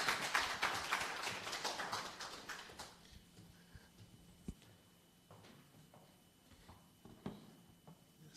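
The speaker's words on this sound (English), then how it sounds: "A big round of applause" Audience clapping after a presentation at a business conference session, a short burst of applause that dies away within a few seconds, leaving a quiet room with scattered taps.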